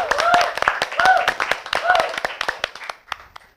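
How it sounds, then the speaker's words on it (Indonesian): Clapping from an audience welcoming a guest on a talk show: sharp, uneven handclaps mixed with voices, thinning out and fading to near silence toward the end. "Tepuk tangan untuk Pak Sarno"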